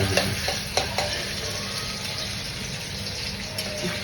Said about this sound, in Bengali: নুডলস খেতে আমরা ধুয়ে নিয়েছিলাম, ওটাকে ভালো করে ভেজে নিব আমরা।